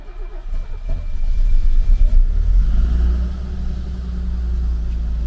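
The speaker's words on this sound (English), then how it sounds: "That's a cold start" A 1972 Mercedes-Benz 280 SE W108 with mechanical fuel injection cranks and fires from cold, settling into a loud, steady low rumble at close range with no talking.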